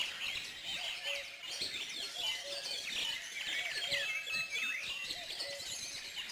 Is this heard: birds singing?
yes